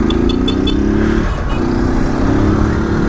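A motorcycle engine in a video game revs loudly and close, holding a steady buzzing drone that dips briefly before rising again.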